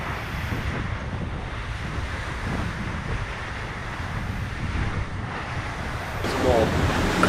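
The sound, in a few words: strong wind and ocean waves on a racing sailboat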